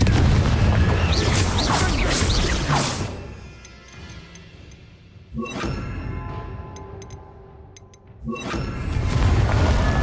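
Spell explosions going off in the Hogwarts Legacy video game: a loud, dense blast with crackling debris fading away, then two more sharp booming detonations roughly three seconds apart, each rising suddenly over a quieter ambient bed.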